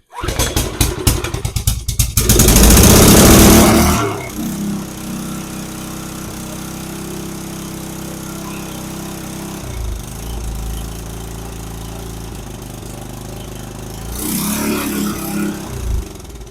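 A Troy-Bilt rototiller engine with a newly replaced carburetor, on choke at open throttle, cranks with several rapid pulls. It catches into a loud roar, settles into a steady running drone and revs up briefly near the end.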